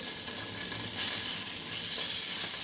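Loud, steady sizzling of fish and carrots frying in oil in a pan, continuous hiss that swells slightly as the fish is turned, with no talk.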